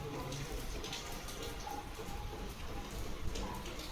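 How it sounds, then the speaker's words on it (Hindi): Steady rain falls outdoors as a continuous wash of hiss and patter, fairly faint, with faint voices mixed in. "बारिश स्टार्ट हो चुकी है"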